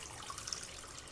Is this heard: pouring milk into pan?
yes